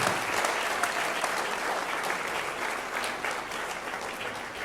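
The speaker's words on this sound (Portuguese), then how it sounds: "De palmas, gente, para nossa banda aqui" Audience applause for a band at a casual hangout gathering at a country property, dense steady clapping throughout at a moderate level with no voices standing out.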